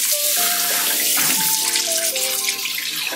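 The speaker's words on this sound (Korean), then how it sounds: "그리고 깨끗하게 헹궈줄게요." Tap water runs steadily as a face is rinsed clean after cleansing foam, a continuous splashing wash under soft background music.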